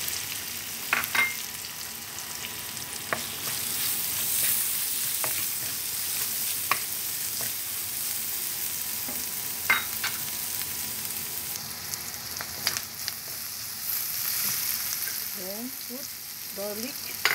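Onions fry in a pan for a Filipino okra and potato stew, a steady sizzle and crackle running throughout at close range with scattered stirring clinks, no talking over it.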